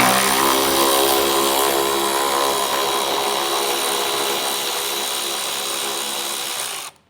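A power tool spins steadily, loud and close, removing a 10mm bolt on a 2020 Jeep Grand Cherokee during a base plate installation, then cuts off abruptly at the end.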